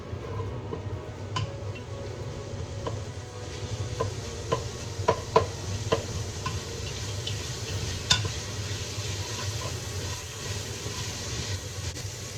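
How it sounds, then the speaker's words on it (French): Onions browning in a pan for a peanut-sauce mafé, a steady low sizzle and hiss with occasional sharp pops and crackles, close and continuous with no talking. "On va dorer les oignons."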